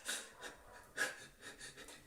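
A person pants quickly and shallowly as part of an acting technique for crying, with rapid rhythmic breathy puffs, about six in two seconds, close and fairly soft.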